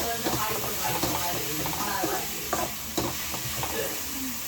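Small sambar onions and large onions sautéing in a pan, a dense continuous sizzle with intermittent scraping stirs and a few faint background voices.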